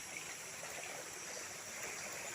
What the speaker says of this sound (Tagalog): Ito baha na naman.